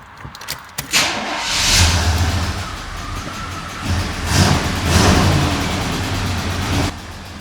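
Chevy Blazer engine with a sticking valve cranking and catching, then running with rising revving surges and throttle swells, loud and close without talk.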